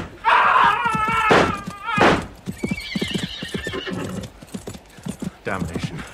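Horses neigh loudly and gallop with thudding hoofbeats in a radio-drama sound effect set during a sword and pistol fight, with close whinnies followed by rapid clip-clopping.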